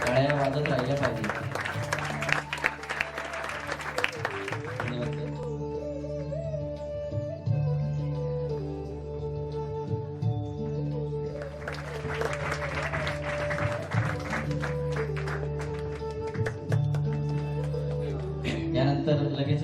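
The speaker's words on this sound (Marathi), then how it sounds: "टाळ्या वाजत राहिल्या पाहिजे." Two loud bursts of crowd applause, each lasting about five seconds, break out at a devotional taal-mridang dindi tribute event. Sustained music with drone-like tones continues underneath and between the bursts.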